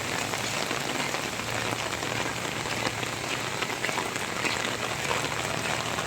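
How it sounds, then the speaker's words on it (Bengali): Heavy monsoon rain pours steadily in Hemayetpur, a dense, even hiss of drops drumming on surfaces, close and constant throughout with no voices. "বৃষ্টি হচ্ছে ঠিক আছে"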